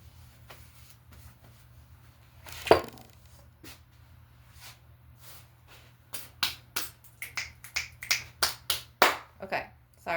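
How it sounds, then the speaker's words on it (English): A single sharp, close hand clap rings out in a quiet room during a crystal-tapping ASMR session, followed by a run of quick, crisp taps and snaps. "sorry you guys if that last clap was a little too much"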